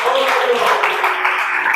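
Steady applause from a church congregation during a sermon, dense and continuous, filling the space at a fairly loud level without pauses.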